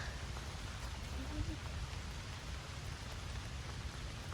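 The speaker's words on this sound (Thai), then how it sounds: "ฝนตกเจ้า" Steady outdoor rain falls as a continuous broadband hiss with a low rumble underneath, during mushroom foraging. The sound is even and unbroken throughout, with no clear talking.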